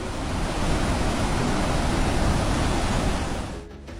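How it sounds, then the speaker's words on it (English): A dense, steady roar of a large waterfall, 300 cubic meters per second plunging 43 meters, fills the whole clip, loud and unbroken, easing off slightly at the very end. "The roar of 300 cubic meters of water per second plunging 43 meters down creates a sound"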